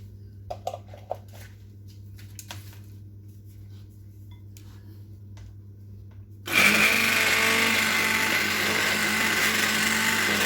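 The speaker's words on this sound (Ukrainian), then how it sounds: "І я це буду збивати ручним блендером" After a few seconds of quiet with faint clinks, a hand blender switches on abruptly and whirs loudly and continuously at close range, whipping a no-bake cake cream.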